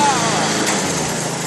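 A 1990 Toro GTS lawn mower engine runs steadily in third gear after repair, a constant close, loud buzzing drone with no pauses across the short stretch.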